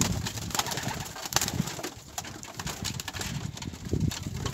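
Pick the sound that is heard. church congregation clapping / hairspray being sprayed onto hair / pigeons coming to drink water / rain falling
pigeons coming to drink water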